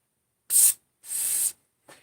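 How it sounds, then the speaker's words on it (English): Brake cleaner sprayed onto an engine crankcase to strip oil: three sharp aerosol hisses, a short burst, a longer sustained spray, then a brief final puff, close and loud with silence between. "Brake cleaner, get rid of any oils"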